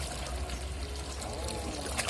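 Water pours straight down from a basin at the equator, a steady splashing trickle heard alone at moderate level for about two seconds.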